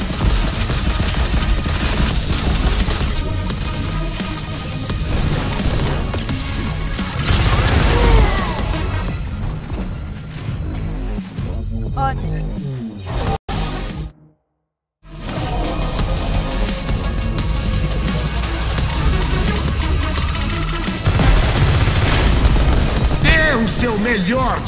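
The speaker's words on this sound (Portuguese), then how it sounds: "Está usando morteiro." Mortar fire and explosions in the video game Crackdown 3: dense, continuous blasts and crashing impacts over loud game noise, with a brief drop to silence midway before the barrage resumes.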